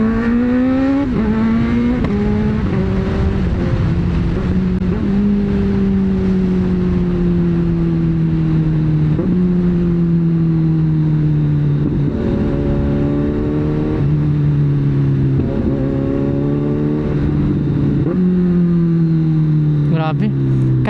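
A Honda Fireblade 1000cc motorcycle engine roars loud and continuous on a night ride, its pitch rising and dropping again and again through gear changes, with talking over the engine.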